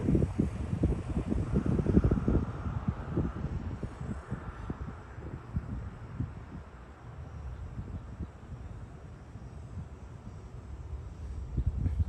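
Outdoor wind buffets the microphone while a Blade 230s RC helicopter flies, a continuous low rumbling roar with gusty surges, loudest early and easing slightly later, with no voices.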